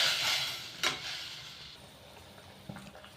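Vegetables for sambar bubble and simmer in a pot, giving a steady close hiss with a couple of brief clinks of a utensil against the vessel.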